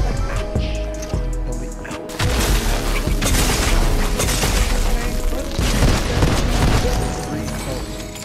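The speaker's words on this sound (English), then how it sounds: "But whatever he threw at me, I think it was an EMP, I'm guessing?" A thrown EMP grenade in Fortnite goes off with a sharp, loud burst after a quieter lead-in, followed by several seconds of crackling, booming blast noise, with someone talking over it.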